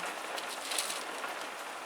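Steady rain falling outdoors, a dense continuous hiss of drops on surfaces with no voices.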